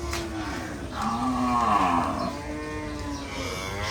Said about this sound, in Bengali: গাবতলী হাটের বিশাল সব বলদ।